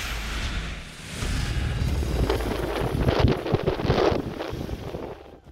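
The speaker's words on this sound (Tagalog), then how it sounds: "Binayo ng malakas na hangin ang ilang lugar sa bayan ng Pasukin sa Ilocos Norte dahil sa bagyong Marce." Strong typhoon wind from Typhoon Marce in Pasuquin, Ilocos Norte roars and buffets the microphone, with gusts building into loud rumbling blasts and rattling noise before dying away at the end.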